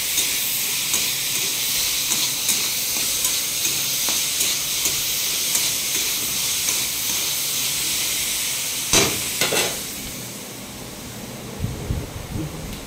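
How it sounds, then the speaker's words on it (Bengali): A wok with a little salt sizzles and hisses steadily on the stove, a continuous frying crackle with a few sharper pops and clatters near the end. "একটু নুন দিয়ে কড়াটা ভেজে নিচ্ছে"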